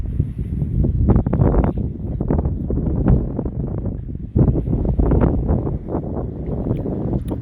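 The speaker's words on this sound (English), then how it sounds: "Damn, I know this wind is bad on y'all." Gusty wind buffets a microphone outdoors beside Lake Placid, making loud, low rumbling bursts that swell and fade irregularly throughout with no clear voices.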